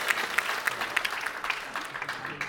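Audience applause for award-winning students at a Hindi institute ceremony in New Delhi, a steady, fairly loud round of clapping from a crowd.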